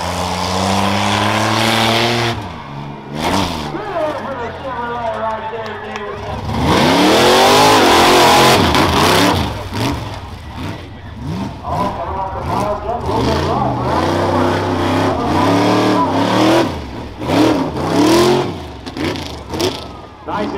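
A truck engine revs hard during a rough truck race at the 2024 Morrow County Fair, loud, with rising and falling throttle sweeps, repeated bursts of acceleration and an announcer talking over it.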